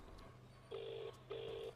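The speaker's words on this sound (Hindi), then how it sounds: "एक मिनट, मैं एक फोन कर लेता हूँ।" Telephone number being dialed: two steady push-button tones, each lasting under half a second with a short gap between them, heard close and clear over a faint low hum.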